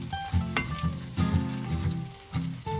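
Latkes sizzle steadily in a hot skillet, a dense crackling hiss with occasional louder pops, close up and with no talking.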